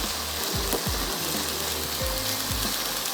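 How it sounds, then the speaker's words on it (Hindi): Masala and onions frying in a pot for barbecue handi, a steady, loud broadband sizzle with soft stirring knocks of the spoon against the pot every half second or so, no voices. "लेकिन पहले इस मसाले को अच्छा सा भून लेते हैं ताकि जो प्याज है वो भी थोड़ी सी सॉफ्ट हो जाए"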